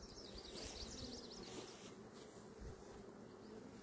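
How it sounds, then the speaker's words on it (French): Honeybees buzz around a small backyard hive colony, a steady dense hum of many insects close by with some higher whining passes over it. "les abeilles."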